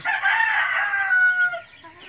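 A single rooster crows loudly and close by in a large backyard in Bulacan, a drawn-out call lasting about two seconds, with only a faint cluck at the end.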